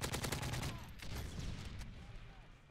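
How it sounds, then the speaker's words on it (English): A CM901 assault rifle fires in a shooter video game, a loud rapid burst of automatic shots followed by a few more scattered bursts as the sound fades. "I'm getting better at shooting this gun"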